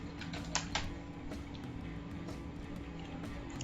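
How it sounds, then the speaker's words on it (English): Someone types on a computer keyboard while setting up a Microsoft Access table: faint, light key taps that are loudest near the start and then settle into a soft, steady clatter under room noise. "Now I will type"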